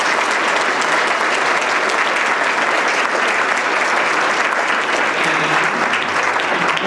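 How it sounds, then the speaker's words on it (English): A banquet room of guests at a chamber of commerce dinner applauds steadily, a dense, sustained wash of clapping from many hands that carries on for the whole stretch without pause. "and I think we all should give her a round of applause."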